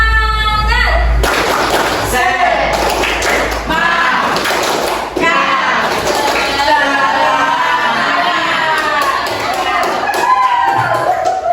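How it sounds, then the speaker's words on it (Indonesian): An Indonesian school class does a rhythmic spirit clap, many children clapping and thumping together in a patterned beat amid lively chanting voices that carry over the claps throughout. "Tepuk semangat."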